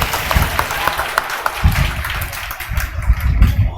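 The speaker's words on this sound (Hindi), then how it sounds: "जोर से ताली।" Loud applause from an audience of students from several districts at a coaching academy event, dense broadband clapping with low rumble and crowd noise throughout, steady and close.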